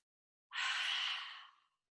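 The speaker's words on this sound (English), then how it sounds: "Take 3 long, deep releasing breaths, mouth open." One long, deep open-mouthed exhaling breath during a yoga class, a breathy whoosh rising suddenly out of silence and fading over about a second.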